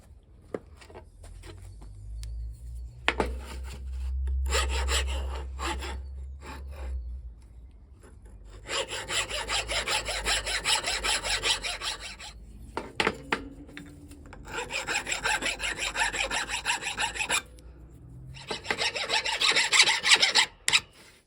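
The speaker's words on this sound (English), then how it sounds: "Just a bit of filing, fingers crossed." Rasping strokes of a file on metal while restoring a military Morse key, coming in several long bursts of quick back-and-forth scraping separated by short pauses.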